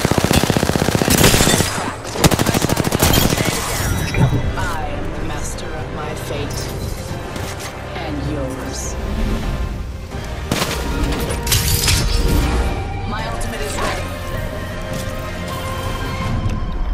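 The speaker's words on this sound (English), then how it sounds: "Shooting." Rapid gunfire from a video game, dense bursts of automatic shots and booms running loud and continuous through the clip, layered with game effects and voices talking over it.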